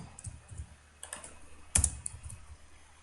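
Sparse keystrokes on a computer keyboard while code is written, a few soft taps and one sharper click, close and quiet with no talking.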